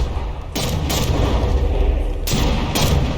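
Battleship guns fire an artillery barrage in the naval combat game From the Depths, with several heavy booming shots in close pairs over a constant low rumble of battle.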